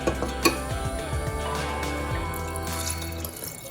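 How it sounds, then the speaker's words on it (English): Water splashes and trickles into a pressure cooker of mutton curry for a few seconds, close and steady, with a couple of light clinks of metal. "And add some water."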